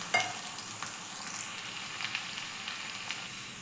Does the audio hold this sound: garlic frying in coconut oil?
yes